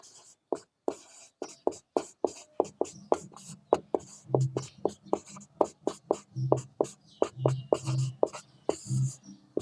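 Chalk or marker writing on a board during a math lesson, a long run of rhythmic close taps and short scraping strokes with brief pauses, faint voice in the background.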